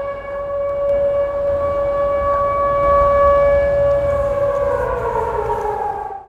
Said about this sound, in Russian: В Северском районе сирена прозвучала с 10 часов 40 минут.